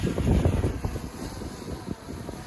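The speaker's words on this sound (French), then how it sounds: "Oh, il y a un petit peu de vent." Gusty wind buffets the microphone with a low, rumbling roar, steady and fairly loud for the whole moment.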